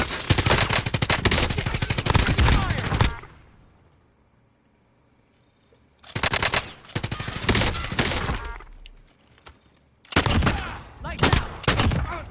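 Automatic gunfire from Call of Duty Warzone, with a PKM loadout, rattles out in loud, dense bursts, breaks off for a quiet stretch near three seconds, then returns in rapid volleys followed by a last short burst.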